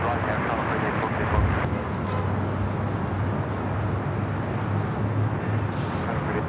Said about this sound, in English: the 28-year-old 777-200 now rolling down to 25 right